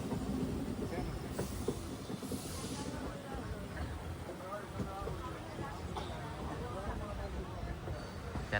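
A train rolls slowly along the Aryankavu–Shenkottai mountain line, giving a steady low rumble and hiss that runs continuously throughout, with voices talking over it.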